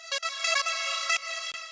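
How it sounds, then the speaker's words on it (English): Super saw pluck synth from an LMMS trance project, played dry without stereo echo: short bright buzzy notes in a quick, gappy sequence, close and clear with no talk. "It's actually just a simple super saw pluck, equalization, stereo echo, flanger, of course, and compression."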